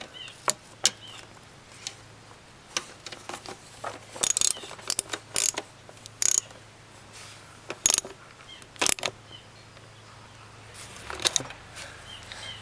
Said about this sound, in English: I'm tightening up the rear mounting bolt for the fuel rail